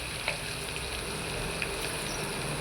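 Vegetables frying in a pan while cooking biryani, a steady soft sizzle with faint hiss, continuous and fairly quiet, with a couple of tiny spatter pops.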